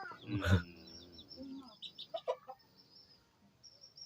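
Chickens clucking nearby in a rural yard, a series of short, uneven clucks and calls after a brief voice at the start, moderately quiet.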